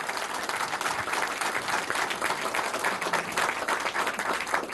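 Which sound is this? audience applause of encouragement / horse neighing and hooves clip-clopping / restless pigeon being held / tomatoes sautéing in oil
audience applause of encouragement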